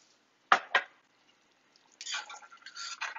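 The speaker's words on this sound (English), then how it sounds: "I'm going to give that a quick stir" A spoon stirs carne guisada in a 7.5 quart Dutch oven: two sharp clinks against the pot, a pause, then a longer stretch of wet scraping and sloshing, close and fairly quiet.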